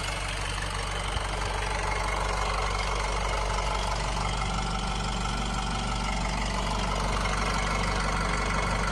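Steady idle of a 2013 Honda CR-V 2.2, the engine running evenly with a continuous low rumble and faint mechanical clatter, close up and without any voices.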